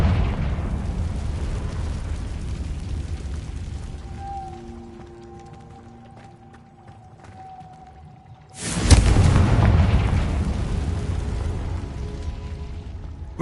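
A Confringo fire spell blasts in Hogwarts Legacy: after a quiet stretch of low rumbling ambience with faint tones, one sudden loud explosion bursts close by, then a heavy roaring tail slowly fades.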